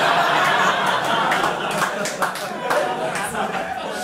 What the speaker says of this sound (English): Sorry for the people who clapped at the beginning of that joke